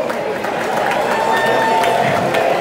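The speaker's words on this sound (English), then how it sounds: "I want to give a round of applause for the brace." A concert crowd at the Starland Ballroom in Sayreville, NJ applauds and cheers during a show, a steady wash of clapping and shouts filling the hall.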